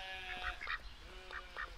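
A Rouen duck on a farm gives several short, nasal quacks in an uneven rhythm, fairly faint against quiet outdoor background.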